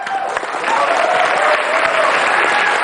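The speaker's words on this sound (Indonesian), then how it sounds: "Tepuk tangan dong, perempuan muda hebat." A TV talk show studio audience breaks into loud, steady clapping, swelling after a moment and holding, with a little crowd noise beneath.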